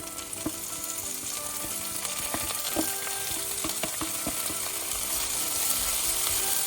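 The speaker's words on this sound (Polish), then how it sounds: "Teraz to wszystko trzeba podsmażyć." Onion and mushrooms fry in a pan for a herring salad, giving a steady, close sizzle throughout with scattered small clicks and scrapes of stirring, and no voices.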